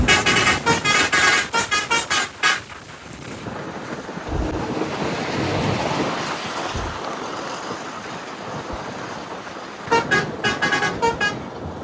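An APSRTC non-stop bus on the Kakinada to Amalapuram route near Coringa sounds a series of loud, rapid horn blasts. A long stretch of road and wind rumble follows, then another burst of repeated honks near the end.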